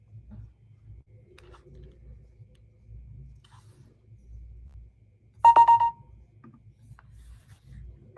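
A phone notification chime sounds once during a livestream, a short bright tonal burst with ringing overtones that stands out loudly against a low, steady background hum.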